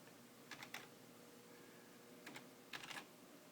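Light clicking taps on a computer keyboard as a command is entered into a terminal, two short bursts of keystrokes separated by a pause, quiet and close with no talking.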